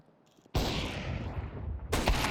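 A single loud sniper shot in Counter-Strike 2 cracks after a brief quiet moment, its blast decaying over about a second before a second sharp report hits near the end.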